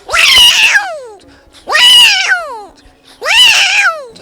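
A voice imitates a cat meowing, giving three loud, close, drawn-out meows with short pauses between them.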